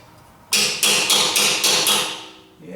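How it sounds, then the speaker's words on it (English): A hammer strikes a steel exhaust bracket under a split-window coupe chassis during drivetrain removal: five sharp, ringing metallic blows at a quick even pace, loud and close, each decaying briefly. "Let me get my hammer."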